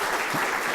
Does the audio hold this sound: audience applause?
yes